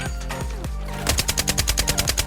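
AKM assault rifle fired in the video game Arena Breakout: a few spaced single shots, then a rapid, even burst of loud automatic fire with no one speaking.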